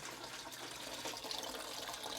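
Melted soy wax is poured into candle containers, a soft continuous liquid gushing and trickling at close range, faint and steady, with no voices.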